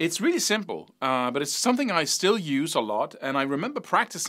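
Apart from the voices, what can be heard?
No distinct noise like a dog, phone or traffic.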